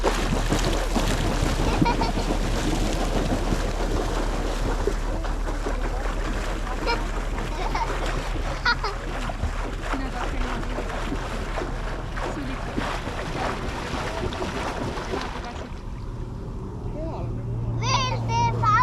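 A small boat paddled with a paddle and by hand, wind buffeting and water washing steadily around it, with people talking over the top throughout.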